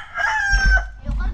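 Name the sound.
chicken crowing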